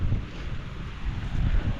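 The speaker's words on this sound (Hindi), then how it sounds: "यहाँ तक आ रही है बारिश अंदर तक, ये देखो।" Wind gusts drive monsoon rain in through an open window of a hillside home in the mountains, a steady loud rushing hiss with low buffeting rumble and no talk.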